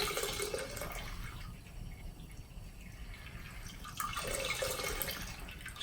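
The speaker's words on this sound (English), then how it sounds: "moving my grains around, letting that water come out." Hot water drains and trickles from a grain bag of malt during all-grain brew-in-a-bag beer brewing, a close splashing pour that eases into softer dripping before swelling again.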